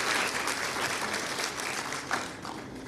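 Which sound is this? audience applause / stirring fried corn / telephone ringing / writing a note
audience applause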